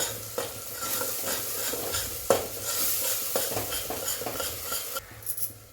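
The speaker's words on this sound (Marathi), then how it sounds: "परतून घेऊया मसाला" Ground masala paste is sautéed in a pan, with repeated scraping and clinking of a spoon against the metal over a steady sizzle, close and fairly loud, ending with a few sharper knocks.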